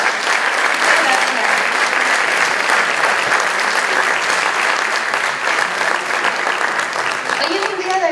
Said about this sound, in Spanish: Un aplauso fuerte, gracias.